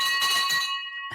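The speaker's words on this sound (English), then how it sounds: "we hit the victory bell for deals like that" A victory bell struck once, ringing with a bright sustained metallic tone that fades, then clipped briefly by a second strike at the end; loud and close.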